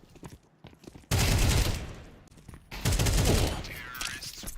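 Video game gunfire in a competitive esports match: two loud bursts of rapid automatic fire, each lasting over a second, separated by a brief lull, with faint background game sounds between them.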